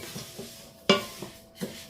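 A spoon stirs 500 g of rice in a pot for a spinach and parmesan risotto. A few soft scrapes and clinks sound close by and alone, with one sharper knock of utensil against pot in the middle.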